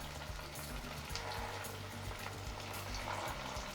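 Puffed rice snack cooking in a pan over a low flame, giving a steady, soft sizzle with faint crackles throughout, close and continuous with no talk.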